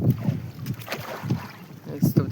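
Wind gusts buffet the microphone in low rumbling bursts outdoors near water on the Konkan coast during crab fishing, loudest at the start and near the end, with faint voices in the background.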